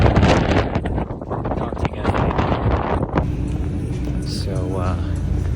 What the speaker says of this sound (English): Wow, it's windy outside.